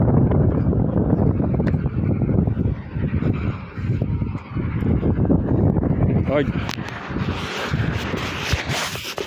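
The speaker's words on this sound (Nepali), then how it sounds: "सरर हावा आउँदो रहेछ।" Wind blows constantly at a hillside cave at Jhakri cave in Aathrai, Terhathum, with rough gusty rumbling and buffeting against the microphone, and a voice briefly rises through it near the end.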